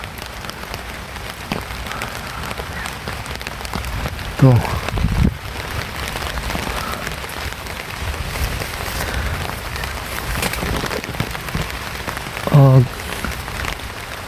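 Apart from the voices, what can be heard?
rain falling on a field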